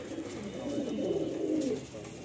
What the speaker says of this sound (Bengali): এই পায়রাগুলো এখন এই মুহূর্তে ব্রিডিংয়ে রয়েছে।